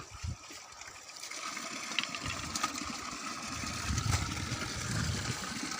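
Water runs steadily from an outdoor tap as hands and faces are washed, a continuous close splashing gush with no speech over it.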